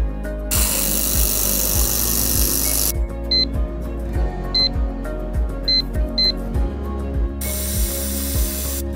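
Portable handheld laser welder joining galvanized square steel for frames, two long loud hissing bursts separated by a quieter stretch of rhythmic mechanical clicks and a few short electronic beeps.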